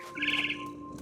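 Bird chirping in the video game What Remains of Edith Finch, a bright twittering call that rises clearly for about half a second over a steady low hum, fairly close and with no talk.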